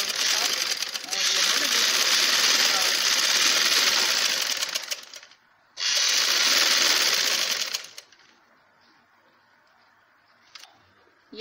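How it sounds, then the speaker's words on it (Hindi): A home sewing machine runs in two long bursts, stitching fabric and attaching a round piece while making a girl's frock, with a brief pause between runs and quiet afterward; someone speaks softly. "काटने के बाद अब मैं इसको इस कपड़े से पहले जोड़ लूँगी मशीन के साथ"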